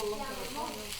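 Garlic sautéing in a pan for arroz carreteiro gives a steady, close sizzle and fry that runs continuously for about a second with no talk over it.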